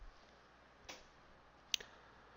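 Two soft mouse clicks, one faint and one sharper, near and isolated in a quiet room while navigating medical records software.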